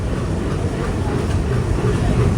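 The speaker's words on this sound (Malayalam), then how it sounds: "ഇവിടെ കാണുന്നത് മലബാർ എക്സ്പ്രസിന്റെ ഷണ്ടിങ് ആവാനാണ് സാധ്യത." Malabar Express shunting at Thiruvananthapuram Central station, a steady low rumble of rolling rail stock with continuous broadband rail noise throughout.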